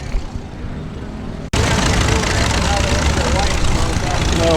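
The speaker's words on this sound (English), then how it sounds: "the tractor parade is going" Tractor engines rumble during a tractor parade at Albany Pioneer Days, a constant loud low drone that jumps in level after a brief cut, with voices talking over it.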